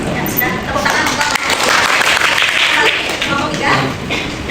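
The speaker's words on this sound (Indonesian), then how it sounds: "Tepuk tangan untuk" Group applause in a classroom for a presenting team of students, a dense, loud wash of clapping that continues steadily throughout.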